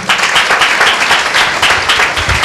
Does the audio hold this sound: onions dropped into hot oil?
no